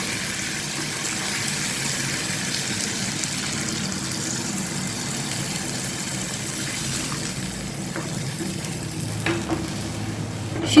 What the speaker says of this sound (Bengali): চিকেনগুলো ঢেলে দিচ্ছি এবার এটা আমি একটু জল দিয়ে দেবো